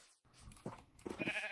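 Sheep in a video game bleat faintly, giving two or three short, wavering cries in quick succession over a quiet background.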